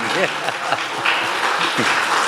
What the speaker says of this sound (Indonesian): Oh, sip tenan iki, tepuk tangan.